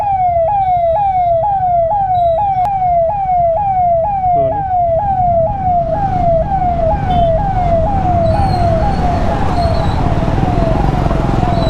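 An ambulance siren wails in a steady, rapid rising sweep, loud and close, repeating without a break over heavy road and engine rumble during a motorcycle ride with friends.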